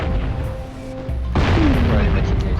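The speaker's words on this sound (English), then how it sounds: "now I have control of the cannon." A cannon fires in the Jak and Daxter video game, with a deep booming blast that stays loud and then rumbles on, close up.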